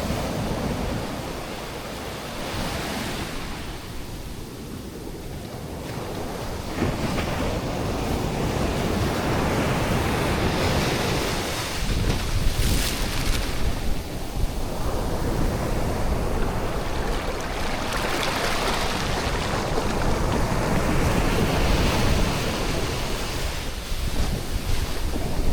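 Ocean waves breaking on a beach in Goa, a continuous roar of surf swelling and receding in long rhythmic surges, with heavy wind buffeting the microphone throughout.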